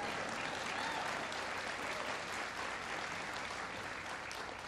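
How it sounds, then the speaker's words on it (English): Sustained applause from a large crowd at a presidential speech, dense and even throughout, with no talking. "That's worth applause, sure."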